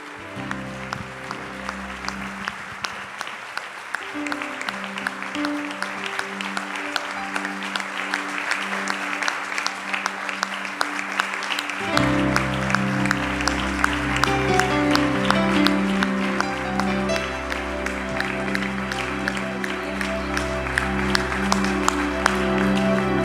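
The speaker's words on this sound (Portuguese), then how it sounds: "Pode dar um forte aplauso ao Senhor" Church congregation giving a strong round of applause to the Lord, sustained loud clapping from many people lasting over twenty seconds, swelling partway through as music with sustained tones joins underneath.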